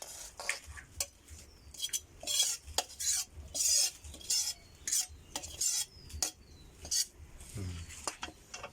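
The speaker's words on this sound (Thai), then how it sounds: "แกงเส้นเหลืองนะครับ ใส่ปลากระป๋อง แบบชาวโดยนะครับ เทใส่จานครับ" Yellow noodle curry with canned fish being poured and spooned onto a plate, with scattered clinks of utensils on dishware and soft wet scraping, close and fairly quiet.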